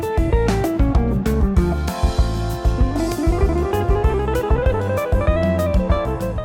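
Electric guitar plays an extremely fast melodic line, with dense rapid picked notes running continuously at steady loudness and no talking.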